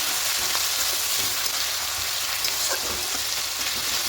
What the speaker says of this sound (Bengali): টমেটো পেঁয়াজটাকে একটু ভাজা ভাজা করে নেবো মানে নরম ভাজা পর্যন্ত একটু কষিয়ে নিতে হবে